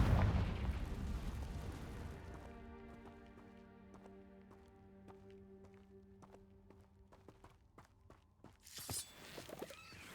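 A Confringo spell explodes in Hogwarts Legacy with a loud broadband burst that rumbles and fades over a couple of seconds, followed by sustained tonal effects and scattered sharp clicks, then a brief bright swell near the end.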